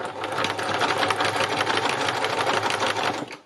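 A sewing machine stitching slowly through several layers of fabric gives a steady, rapid mechanical clatter, close and alone, that runs unbroken before stopping at the end.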